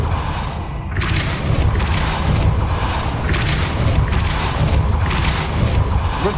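The Depulso force spell in Hogwarts Legacy is cast repeatedly, each cast a booming whoosh of impact that arrives roughly every one to two seconds, loud and close, with no talking.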